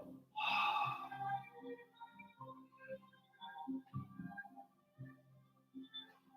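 A sharp, audible breath in during a tai chi spine twist, close and strong at the start, followed by quieter breathing and soft body sounds.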